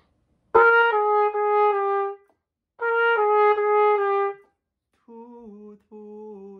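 Solo tenor saxophone plays smooth, connected phrases: two longer legato passages followed by a softer, lower pair of sustained notes, with short pauses between.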